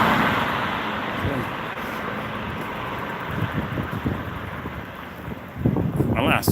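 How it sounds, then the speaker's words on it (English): Passing car traffic rumbles steadily past, loud and close, with gusts of wind buffeting the microphone and a heavier surge of engine noise toward the end. "All I can hear is bloody cars."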